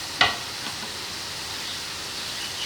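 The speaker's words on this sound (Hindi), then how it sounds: "लहसुन अदरक का पेस्ट डालेंगे" Garlic ginger paste hits minced meat in a karahi with a sharp initial splash, then settles into a steady, even sizzle of frying.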